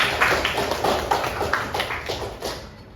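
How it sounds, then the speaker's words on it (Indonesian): Sixth-grade pupils at an Islamic elementary school in Surabaya applaud together in a classroom, a steady patter of claps at moderate loudness that tapers off slightly over a few seconds. "Tepuk tangan untuk kalian semua."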